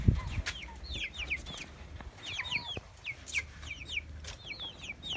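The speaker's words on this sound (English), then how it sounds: "These are Noila birds." Young Noila chickens a few weeks old, feeding on banana and cassava leaves, give repeated soft clucks and high chirps in quick scattered bursts, close by, with light rustling and no talking.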